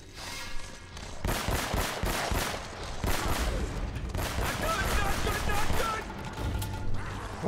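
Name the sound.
gunfire during running gunfight in Uncharted: Drake's Fortune video game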